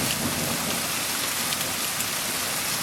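Heavy rain pours down steadily and close by during a thunderstorm, a dense continuous hiss of drops striking surfaces with no talking, the downpour holding at an even loudness throughout.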